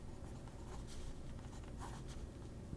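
Close, steady scratching of a Kuru Toga mechanical pencil with a 0.5 lead writing on paper, soft continuous strokes with a few brighter scrapes, no talk.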